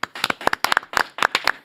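Audience clapping to welcome a professor onto a talk stage: a small group's sharp, close hand claps in a quick, uneven patter.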